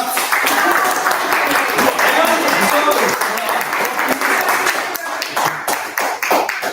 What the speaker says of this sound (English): How about the claps?